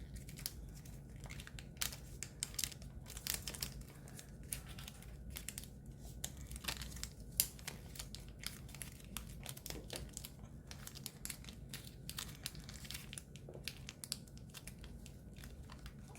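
Paper folded into an origami ninja spinning top: soft close crinkles and creases with brief crisp taps, faint and steady, no voices.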